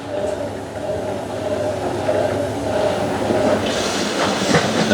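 A Hotpoint 9530 and a Miele W562 washing machine run a rinse cycle on a white cotton half load, giving a close, continuous churning rumble with rhythmic tumbling and water swish.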